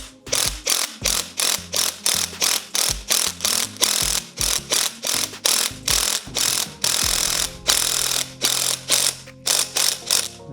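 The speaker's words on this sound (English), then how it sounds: "you're going to use an 18 millimeter socket, and I got me an 18 millimeter on here" Ratchet with an 18 millimeter socket tightening a lock nut on a Kraken rigid fireworks star rig: loud, close, rhythmic clicking in repeated bursts of strokes, steady throughout with no talking.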